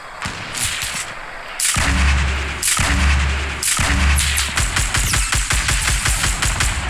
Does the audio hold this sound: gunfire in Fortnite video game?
yes